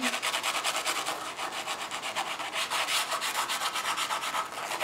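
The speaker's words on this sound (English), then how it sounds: "Scrub at it a little bit because you have these sort of waxy crayons on the surface of your paper" A spoolie brush scrubs waxy crayon on paper up close, making a loud, rapid, rhythmic rubbing scratch that continues steadily without talking.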